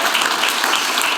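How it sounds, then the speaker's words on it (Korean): Sustained, dense applause from a symposium audience in a hall, steady and even throughout with no pauses. "네, 다시 한번 큰 박수로 예,"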